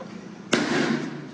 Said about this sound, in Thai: ลูกโป่งแตกนะคะทุกคน